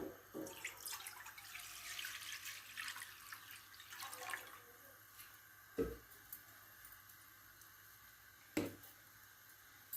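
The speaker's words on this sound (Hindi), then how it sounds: "सबसे पहले हम कढ़ाई लेंगे और फ्लेम ऑन करेंगे और इसको कढ़ाई में हम खुला पानी डालकर इसको बॉयल करेंगे।" Water is poured into a kadhai to boil rice, giving a soft, quiet splashing and trickling with a few sharp clinks of metal.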